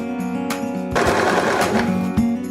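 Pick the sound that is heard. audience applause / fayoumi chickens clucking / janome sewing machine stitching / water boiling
janome sewing machine stitching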